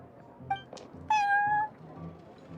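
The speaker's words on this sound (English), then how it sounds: "I thought having a cat take care of our new customers would be quite a nice touch." A cat in the Genshin Impact video game, at the Cat's Tail shop, gives a few short meows, then one longer, clear meow, over a soft background music bed.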